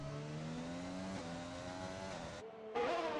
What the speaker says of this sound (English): The engine rev glitch.